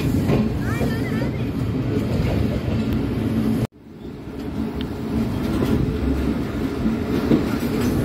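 A train runs on the track at a station near a level crossing in Sindh, giving a steady loud rumble with faint rail clatter that cuts out abruptly and then builds again, with some background voices.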